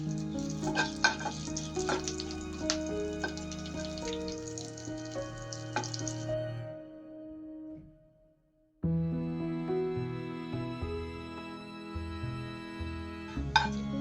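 Dried red chillies frying in hot oil for a tempering, a steady close sizzle with small clinks, briefly dropping to near silence before the sizzling resumes.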